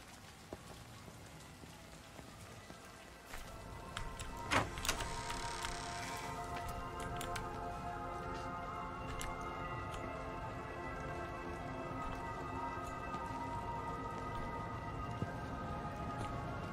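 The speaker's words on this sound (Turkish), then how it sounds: "Oyunda ilk kez yağmur görüyorum bu arada." Rain falls steadily in the game Everybody's Gone to the Rapture, a continuous even patter across the whole span, with a few sharp ticks and brief clatters early on over a faint hum.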